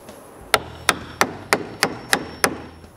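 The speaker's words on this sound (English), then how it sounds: "Then I just need to continue nailing." Hammer nailing wooden planks onto the exterior walls of a new shop, seven sharp evenly spaced strikes about a third of a second apart, close and loud with no talking.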